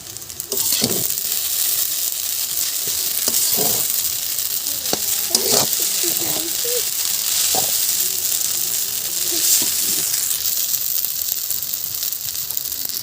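Chowmein is stir-fried with boiled cabbage in a pan, a continuous hissing sizzle broken by several clattering stirs and tosses of the utensil at close range.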